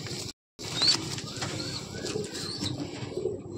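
A Madrasi breeding pigeon flaps its wings in brief bursts while being handled, with a short gap and faint background bird sounds.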